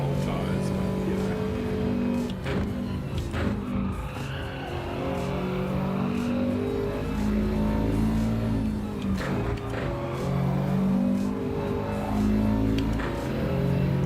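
Race car drifting on cold tyres in an online racing game, with a steady engine drone, rising and falling revs, and faint tyre scrub throughout.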